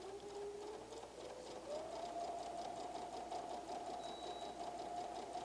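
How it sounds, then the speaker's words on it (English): A sewing machine runs steadily, stitching a quarter-inch seam joining quilt fabric to background fabric; its fast, even motor whir and rhythmic needle clatter hold close and continuous throughout, with no talking. "I'm going to go ahead now and sew a quarter of an inch seam on this to connect it with our"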